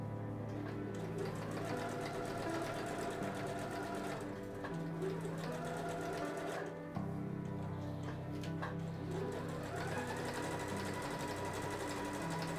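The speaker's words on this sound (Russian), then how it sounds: "Прокладываем строчку прямо поверх, и можно продолжить ее дальше к пояскам" A sewing machine runs a line of stitching along the ties of a handmade apron, a steady, close mechanical whir with fine rhythmic ticking that continues almost without pause.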